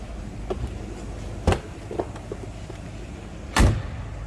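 The 1959 DeSoto Firesweep Sportsman idles quietly and smoothly as a low, steady rumble, broken by two sharp clunks near the car, with no talking.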